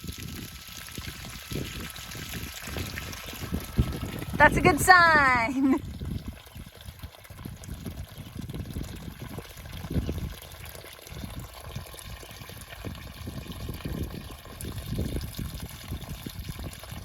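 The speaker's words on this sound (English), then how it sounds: "Hey, look at that water pouring out." Water gushes and splashes out of a drain briefly for a second or so, then a quieter trickle continues under a person speaking.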